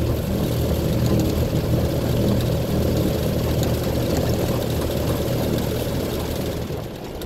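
A Land Rover Series II engine labours in fourth gear at low speed on a drive home with a failing gearbox, a loud, constant low drone and rumble that holds steady throughout and eases slightly near the end.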